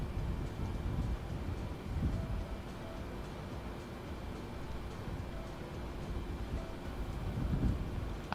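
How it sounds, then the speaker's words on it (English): Steady wind ambience in Microsoft Flight Simulator 2020, heard from a KLM Boeing 787-9 at Hangzhou airport before departure: a constant low rushing roar with slight gusty swells, continuous and fairly loud, no talking. "I don't like the constant wind."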